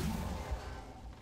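A smoke grenade going off in the video game Gears 5 gives a brief, dense whooshing hiss with a low rumble underneath, sustained for about a second before thinning out.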